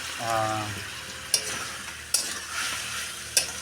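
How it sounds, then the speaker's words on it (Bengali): Meat being stir-fried in a pan with a steady sizzle throughout, broken by a few sharp spatula scrapes against the metal and a brief voice at the start. "কষাই করছি, ভাজে নিব ভালো করে মাংসটা"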